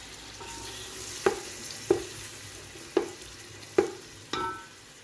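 Chopped tomatoes frying in a pan for chana pulao, a steady sizzle broken by five sharp spoon knocks as the mixture is stirred at a regular pace, close and clear with no talking.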